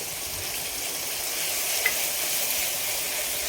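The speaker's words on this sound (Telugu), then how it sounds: "ఇది పచ్చి వాసన పోయేంత వరకు మంచిగా అయితే మిక్స్ చేసుకోవాలి." Ginger paste fries in a pan as it is stirred for capsicum curry, a steady close sizzle and crackle that holds evenly throughout, with no talk.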